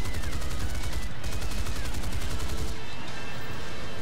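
Rapid 30mm cannon fire in War Thunder, heard from an F9F-2 Panther jet: dense, continuous bursts of heavy gunfire that thin out near the end, loud and close throughout.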